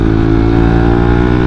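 A Suzuki GSX 150 motorcycle with a raised exhaust idles close and loud, giving a steady throbbing putter with a constant rhythm.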